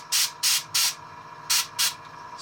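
Spray paint hisses onto a miniature in five short close bursts, three quick ones then a pause and two more, each a sharp airy blast over a quiet room.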